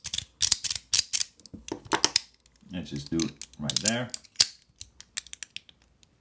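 Zirc slider fidget toy: sharp, close metallic clicks and ratcheting snaps in quick irregular bursts, with a person speaking briefly between them.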